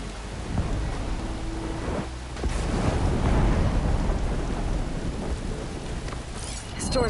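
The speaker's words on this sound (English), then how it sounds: "Crackling with those storm clouds looming." A thunderstorm rolls through in the action game Horizon Forbidden West, with steady heavy rain and a loud rumbling thunder peal building midway and lingering before fading, no voices.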